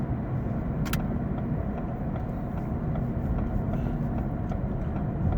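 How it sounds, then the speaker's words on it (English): A car driving at night gives a steady low road rumble and engine hum from inside the cabin, continuous and moderately loud, with one brief sharp click near the start and no talking. "I'm driving at night."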